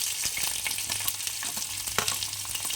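Onions, curry leaves and mustard-type tempering seeds frying in oil in a kadai for Rayalaseema uggani, a steady close sizzle with crackling pops and a few brief sharper spits, no voices.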